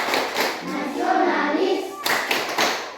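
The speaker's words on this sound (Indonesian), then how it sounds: "Sebelum kita tepuk PPK. Tepuk PPK." Classroom group of students performing the PPK clap chant, with sharp bursts of hand claps in a rhythmic pattern broken by a stretch of voices chanting between the clap groups.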